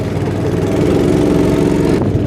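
A go-kart engine runs loud and close on a track, a steady droning hum with a slight dip near the end.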